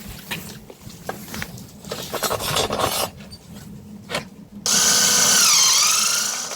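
A rod cutter slices through a rod, with rubbing and scraping handling noises first, then a loud, sustained high-pitched grinding cut close up for about two seconds.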